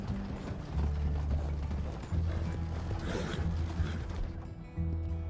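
Horse hooves clop steadily in Red Dead Redemption 2 under rattling, creaking mechanical noise, with a continuous low hum beneath.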